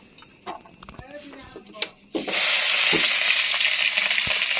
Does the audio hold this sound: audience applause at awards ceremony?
no